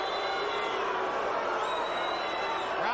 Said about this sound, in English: Crowd wants more action.